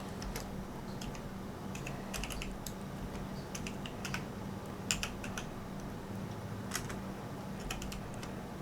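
A computer keyboard is typed on in quick, irregular clusters of soft, close clicks over a faint steady background hum, with no talking.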